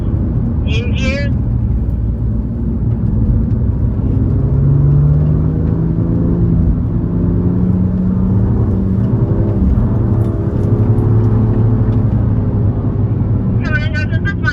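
BMW cars lapping a race track, their engines droning and rising in pitch as they pass, a steady rumble throughout with brief higher whines near the start and end.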